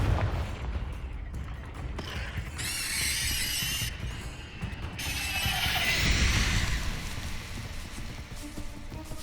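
A Confringo blasting spell goes off in the Hogwarts Legacy video game, a fiery explosion with crackling, rumbling debris and shimmering magical sizzle layered over continuous game ambience, loud and sustained for several seconds.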